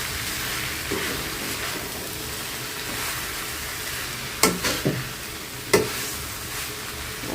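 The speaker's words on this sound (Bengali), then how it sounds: "আদা রসুন বাটা দিয়ে হচ্ছে ভাজা ভাজা করে নিলাম।" Boiled chicken sizzles in a pan with fried ginger-garlic paste, a steady close frying hiss broken by a few sharp clatters of stirring, with no talking.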